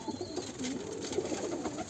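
Soft, low tumbler pigeon cooing, faint and steady over a quiet background hiss.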